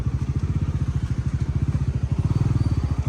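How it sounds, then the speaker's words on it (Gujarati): A Bajaj Pulsar NS400Z motorcycle runs close by at low speed, its engine a steady, rapid thumping pulse with a slight rise in loudness toward the end, heard alone. "તો ફાઇનલી અમે અમારું બાઇકને અહીંયા પાર્કિંગ કરી દઈશું"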